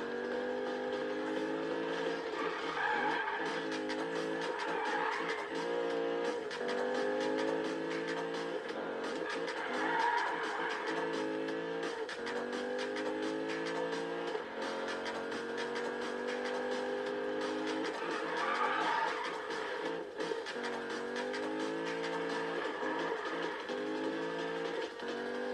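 A Ford Mustang in a Need for Speed race roars steadily through the whole stretch, engine pitch climbing and dropping in repeated cycles with gear shifts, moderately loud, with no talking.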